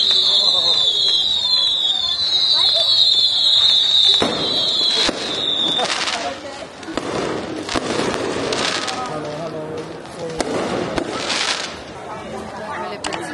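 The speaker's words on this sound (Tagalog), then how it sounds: "Ay, may fireworks." Fireworks explode repeatedly at a night outing in Taiwan where sky lanterns are being released, with a thin whistle early on and a steady run of crackling booms. People talk and react throughout.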